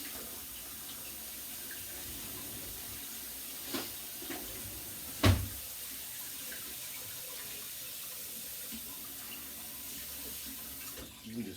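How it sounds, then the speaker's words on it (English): Hot water runs steadily from a tap in a soft, continuous hiss, with a few light clinks and a sharper knock partway through. "So I'm going to run some hot water."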